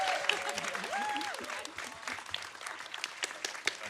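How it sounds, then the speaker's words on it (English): An audience at a live film Q&A claps in a dense patter, moderately close and steady for a few seconds, with some voices mixed in. "Can we have a round of applause for Miss Benner"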